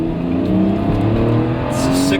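A BMW X5 3.0i six-cylinder SUV engine growls and rises in pitch as it accelerates hard in sport mode, steady and close, with a faint hiss near the end.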